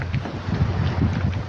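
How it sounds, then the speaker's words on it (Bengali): Boat engine and water wash at a jetty in the Maldives as a speedboat pulls in, a steady low rumble with wind buffeting the microphone throughout. "একটি স্পিড বোটও ঘাটে চলে আসছে।"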